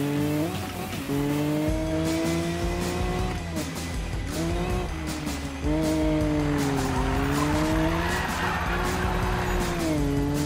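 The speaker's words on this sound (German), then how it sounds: "Wenn man sie mal im Drift hat, die Karre," A car in the Need for Speed racing game drifts with loud, sustained tire squeal over a revving engine whose pitch rises and falls in waves, close and continuous with no talk.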